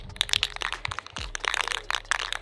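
Rust-Oleum Automotive Primer spray can shaken hard, close rapid rattling and clattering with a brief pause midway, no talk.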